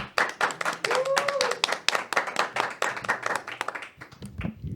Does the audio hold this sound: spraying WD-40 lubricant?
no